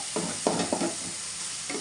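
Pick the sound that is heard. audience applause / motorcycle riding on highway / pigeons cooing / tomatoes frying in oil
tomatoes frying in oil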